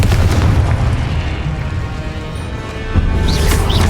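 A Confringo blasting spell detonates in Hogwarts Legacy, a loud, sustained booming explosion with rumbling low end, swelling again toward the end amid ongoing combat noise.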